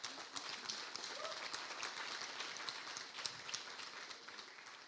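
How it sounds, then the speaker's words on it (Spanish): A church congregation applauds at a Christmas sermon, a dense, steady wash of clapping filling the room for several seconds at moderate distance, with a few faint voices mixed in. "Dale un aplauso al Señor."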